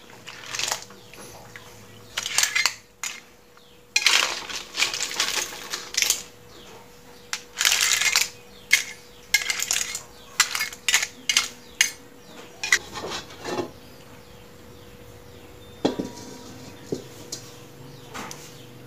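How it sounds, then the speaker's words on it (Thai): Stir-fried baby clams in roasted chili paste are scooped from a pan onto a plate, giving irregular bursts of sharp shell clatter and utensil scraping, close and clicky, with quiet pauses between. "ผมตักใส่จานเลยครับ"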